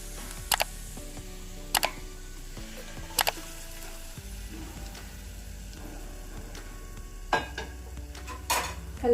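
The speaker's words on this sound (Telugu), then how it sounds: "ఇప్పుడు మెదుపుకున్న వంకాయలు ఇది కలిపేసుకోవాలి" Mashed eggplant for vankaya baji is stirred in a frying pan, with soft scraping, a low sizzle and several sharp spatula taps against the pan at irregular intervals.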